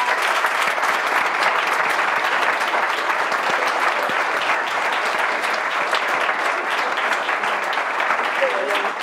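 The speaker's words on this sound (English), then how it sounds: "can we please give these amazing women a round of applause?" Sustained applause from an audience at a Yale event honoring women in sport, dense steady clapping that holds for about nine seconds with some voices mixed in, tapering slightly at the end.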